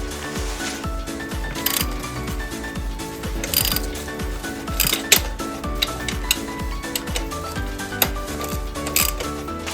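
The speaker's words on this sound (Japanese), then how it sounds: "リンクの2つのボルトを緩めていきます" A ratchet wrench loosening the suspension link bolts on a Yamaha XSR125 during lowering work, a rapid, close, continuous clicking that runs in bursts with brief pauses.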